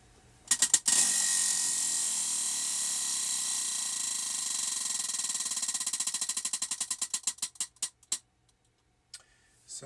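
A prize wheel spins to pick a crochet stitch, its pointer ratcheting in rapid clicks that gradually slow and spread apart until the wheel stops, close and fairly loud with no talk.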